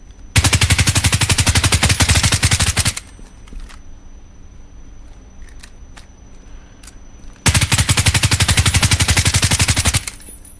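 Video game gunfire in two long bursts of rapid automatic shots, loud and close, separated by a quieter stretch with a few isolated clicks and faint background game sound.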